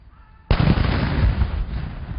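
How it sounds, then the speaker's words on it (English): A single sharp blast from a 21-gun ceremonial salute for the swearing-in of a Governor-General bursts out after a brief quiet and rolls into a long booming rumble that slowly fades. "His appointment heralded by a 21-gun salute."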